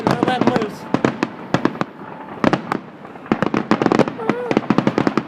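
An outdoor fireworks show in Mentor, Ohio reaches its grand finale, with dense rapid-fire pops and cracks, many in quick clusters, loud and close, as people talk and shout over the barrage.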